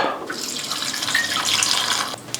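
Water pouring from a tap into a pot or cup while cooking Mexican vegan chilaquiles, a steady close splashing stream that runs for about two seconds and then cuts off, with no talk.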